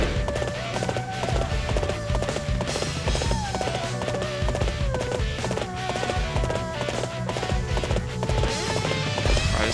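Rhythmic hoofbeats of a horse clip-clop at a steady gallop in Dynasty Warriors 8: Xtreme Legends on PS3, mixed with busy game music and effects, loud and continuous throughout.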